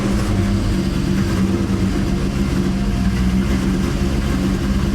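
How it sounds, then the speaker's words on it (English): A supercharged Ford Terminator Cobra with a ported Eaton supercharger idles close by, a steady, loud, throbbing rumble with no talk over it. "I'm just gonna let it idle for a second"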